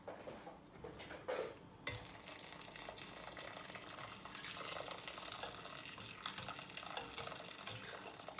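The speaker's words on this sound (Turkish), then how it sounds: "Üzerlerine sıcak su ilave edeceğim şimdi." Hot water pours into a cooking pot of beans and chickpeas for aşure, a continuous gushing splash with faint metal clinks, starting after a brief quieter moment near the start, heard close and without talk.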